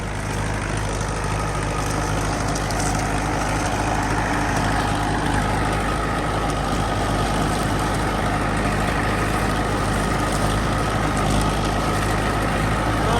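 A tractor engine idles nearby, a loud, continuous low rumble that holds steady throughout with no pauses.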